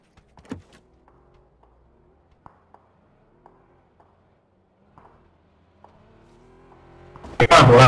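A car in the battle-royale game PUBG has its engine roar to life and rev loudly at the end, after several seconds of near silence broken by faint scattered clicks.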